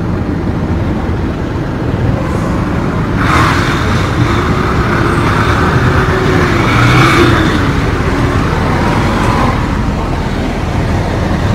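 Steady road traffic in Palín, Guatemala: a continuous wash of car and bus engines with vehicles passing and occasional revving, loud and unbroken for the whole stretch with no voices.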